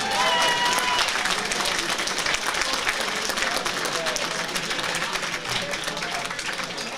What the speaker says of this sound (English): A massive round of applause, please.